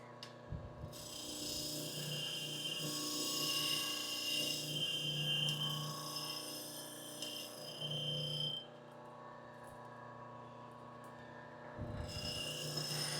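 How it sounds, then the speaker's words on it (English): A new Harbor Freight wire wheel on a slow 1700 RPM bench grinder strips peeling, damaged chrome from an old tool, giving a steady close-up rasping scrape that drops away near the end, then briefly returns. "This is a brand new wire wheel we got at Harbor Freight."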